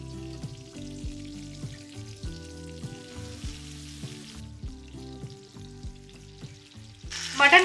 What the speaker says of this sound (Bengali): মাটন কাবাবটা কিন্তু একদম ধিমে আছে কুক করবে